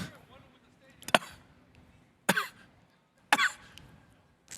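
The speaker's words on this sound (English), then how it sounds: "it was a lot of coughing" A person coughs on a sports talk show set: three sharp, close coughs about a second apart, each a short harsh burst with quiet gaps between.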